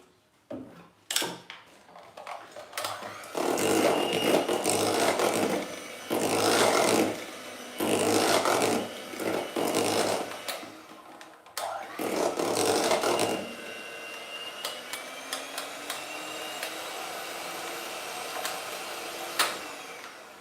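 Electric hand mixer beating cake batter in a kitchen, loud whirring bursts in several on-off pulses over about ten seconds, then clattering and scraping of the bowl as it stops.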